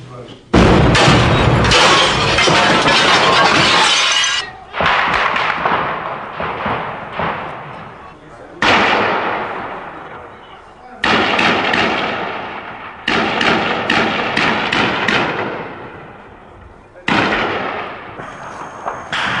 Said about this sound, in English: Soldiers rushed to answer the incoming sniper fire. It was scary and very noisy.